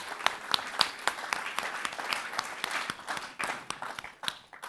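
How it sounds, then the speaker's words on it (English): Audience applause at an awards ceremony, many hands clapping at once with sharp irregular claps, fairly close and steady for several seconds, no voices over it. "Can we get a round of applause to all of our judges"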